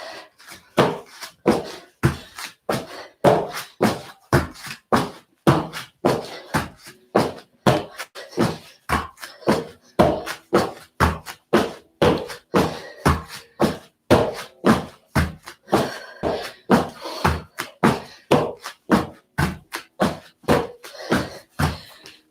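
Squat thrusts in a Brazilian jiu-jitsu workout land as a steady, evenly spaced series of dull thuds on the floor, a few dozen hits at a brisk rhythm, close and fairly loud with no talking.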